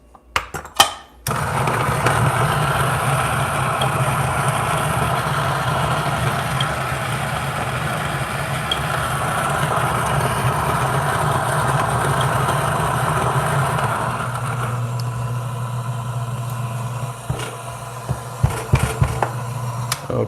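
A Niche Zero coffee grinder grinds espresso beans, a steady low motor hum with a grinding rasp that runs for most of the stretch and then shifts tone and fades near the end.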